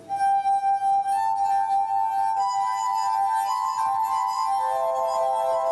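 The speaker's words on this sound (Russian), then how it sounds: "ничем не примечательный набор бокалов может превратиться в ангельский орган" Rubbed wine glasses played as a glass harp ring out in clear, sustained, pure tones, with several notes overlapping and changing as new glasses join, close and fairly loud with no voices.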